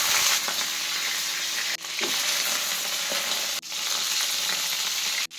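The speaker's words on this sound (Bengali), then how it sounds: "ফুলকপি ভাজা বসিয়েছি, তারপর বেগুন ভাজবো," Cauliflower pieces fry in a pan of hot oil with a steady, close sizzle, broken by three brief dips and light stirring scrapes.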